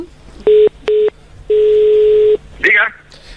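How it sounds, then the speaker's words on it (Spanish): Telephone tones on a dropped call: two short beeps followed by a longer steady line tone, loud and clear, then a brief burst of voice at the end. "creo que tiene problemas con la cobertura del teléfono, que se ha colgado la comunicación"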